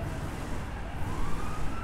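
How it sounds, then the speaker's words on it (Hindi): Police car sirens wail in GTA V, a steady, fairly distant tone sliding slowly upward over a low rumble of traffic and engine noise. "हर जगह पे मुझे ना पुलिस वालों की सायरन की आवाज़ सुनाई दे रही है"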